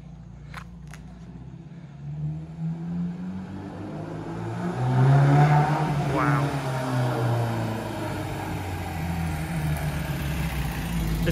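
A Ford Anglia engine fitted with a new Weber carburettor revs up, swelling to a loud peak mid-clip before settling back to a steady run, with a brief exclamation from a voice nearby.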